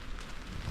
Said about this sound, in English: The rain's now on, fairly consistent.